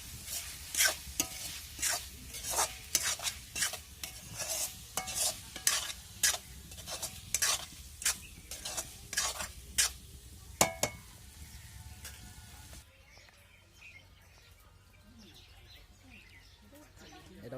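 Food being stir-fried village-style in an outdoor pan, with salt added, gives rhythmic scraping stir strokes over a steady sizzle for about twelve seconds, then stops, leaving a quiet backdrop with faint birdsong.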